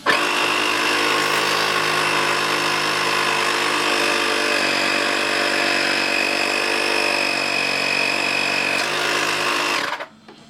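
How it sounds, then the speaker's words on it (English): A small electric tyre inflator drones with a loud, steady motor whine for about ten seconds as it blows air into a multi-piston brake caliper to free seized pistons, then cuts off abruptly. "which is nothing more than a tyre inflator with the end on to blow up lilos or beach balls or something"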